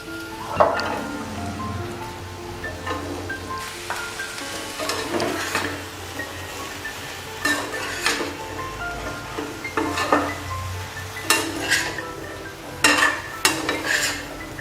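Cauliflower fries with tomato and onion in a pan, a steady sizzle under repeated scraping and clinking stirs that come in irregular bursts.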